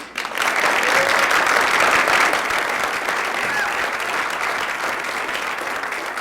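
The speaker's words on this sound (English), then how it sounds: "You can applaud." Audience applause at a televised town hall discussion on gay marriage, dense sustained clapping that starts abruptly and holds steady for several seconds.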